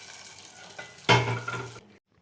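Tempering seeds and cumin hit hot oil in a pan with a sudden loud sizzle that crackles briefly, then cuts off abruptly into near silence, preceded by faint stirring.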